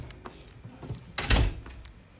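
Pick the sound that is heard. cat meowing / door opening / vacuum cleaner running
door opening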